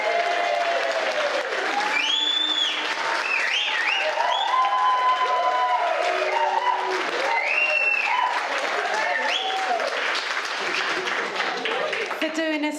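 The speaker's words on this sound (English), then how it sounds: "I'll start by asking you to give a huge round of applause to Blake" Wedding guests clapping for a bridesmaid's speech, steady dense applause sustained throughout at even loudness, with cheers rising over it in places.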